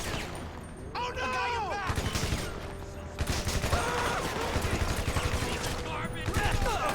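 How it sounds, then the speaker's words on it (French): A combat machine gun fires in a GTA 5 survival-mode match, loud bursts of rapid automatic shots among other game sounds, with a voice talking over the gunfire. "cette arme-là, mitrailleuse de combat en jeu"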